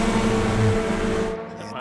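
SCCA Runoffs STU race cars battle side by side at Road America, with a loud engine roar that sweeps past and fades sharply near the end while a commentator talks over it.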